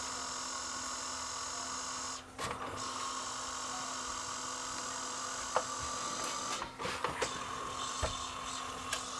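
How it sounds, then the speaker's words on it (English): Sony MDP555SA laserdisc player with a slipping drive belt, giving a steady electrical hum and whine with irregular mechanical clicks and brief dips as the disc drive struggles. "yeah, that belt is slipping bad."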